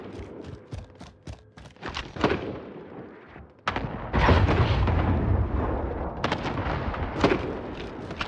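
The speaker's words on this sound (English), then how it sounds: "Allied cluster strike incoming." Cluster strike in the video game Call of Duty Warzone: a rapid series of sharp booms and cracks, then a heavier rumbling barrage of overlapping explosions rolling on for several seconds, loud and close.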